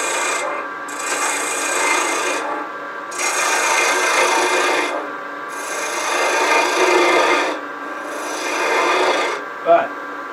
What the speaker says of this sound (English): I'm going to go ahead and do a little sanding while I can